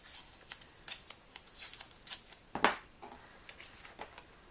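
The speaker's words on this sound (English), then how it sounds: "I'm going to go ahead and tape that in place where I want it" Tape is pulled and pressed down to fix a paper piece onto a handmade Christmas cardinal gift tag, giving a string of short, close crinkly rips and taps with a sharper burst partway through.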